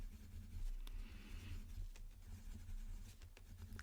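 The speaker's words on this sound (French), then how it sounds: "Et là, je viens colorier l'intérieur des ronds." Colored pencil scratching across paper while filling in small circles, a soft continuous scribbling texture with a few brief taps, close and quiet.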